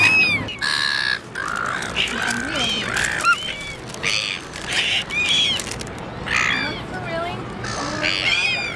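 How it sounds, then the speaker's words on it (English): Seagulls calling around Sydney Harbour, a flock giving repeated sharp, harsh squawks and cries in close succession amid busy outdoor crowd noise and some chatter. "Look, there's seagulls everywhere."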